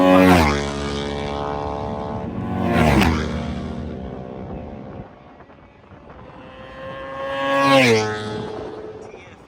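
Older racing motorcycles scream past on a racetrack one after another, their high engine whines rising and then dropping sharply as each bike passes close by, with loud pass-bys separated by quieter stretches.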